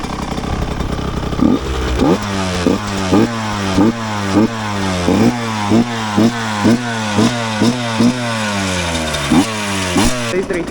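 A TM 125EN motorcycle engine is revved hard again and again at close range, each loud throttle blip rising and falling in a quick, steady rhythm over a continuous idle.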